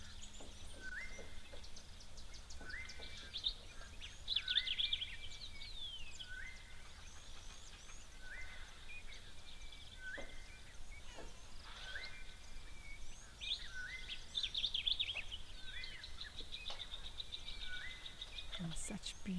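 Varied songbird calls, including a sombre greenbul and a southern boubou, ring out around an African waterhole, with repeated chirps and whistles at moderate distance over steady background ambience.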